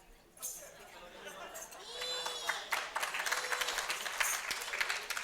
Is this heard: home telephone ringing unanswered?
no